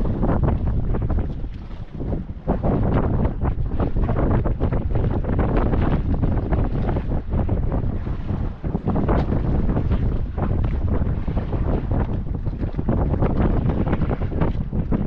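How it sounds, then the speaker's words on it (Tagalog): Loud, continuous wind roars and buffets across the microphone throughout, with rumbling gusts and no voices. "Lakas ng hangin mga idol."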